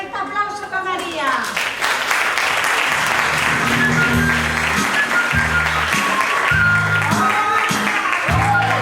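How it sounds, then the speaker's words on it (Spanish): A cabaret audience applauds a dancer, a steady wash of clapping that is loud and sustained, with music and low bass notes playing underneath throughout. "Un fuerte aplauso para María."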